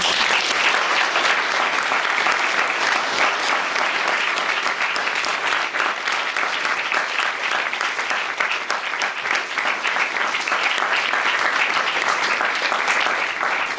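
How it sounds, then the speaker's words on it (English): Sustained, loud applause from a large audience at a Durham Union talk, dense clapping that stays steady from start to finish with no talking. "Can we have a round of applause?"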